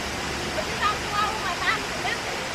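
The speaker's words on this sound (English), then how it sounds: "It's probably the most well-known waterfall ever." Steady broadband roar of a well-known waterfall near Portland, constant and fairly loud, heard on a hiking trail with faint voices briefly over the rushing water.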